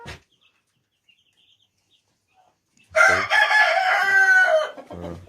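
Domestic Brahma chickens cluck faintly at first, then a rooster bursts into a loud, drawn-out crow close by, followed by a few more clucks.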